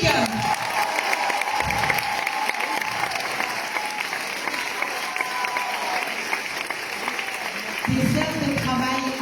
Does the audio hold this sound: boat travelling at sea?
no